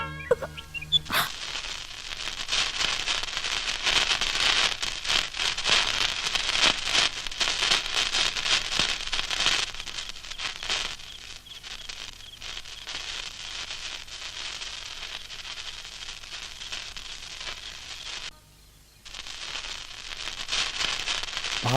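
Firecrackers burst in a dense, continuous crackle of rapid pops, steady for a long stretch, with a brief pause near the end before resuming.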